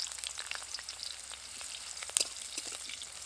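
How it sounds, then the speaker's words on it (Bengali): Bitter gourd frying in hot oil, a faint continuous sizzle with scattered small pops and crackles, one slightly sharper spit near the end, close by and with no talk. "এবার উচ্ছে দিয়ে ভেজে নেবো"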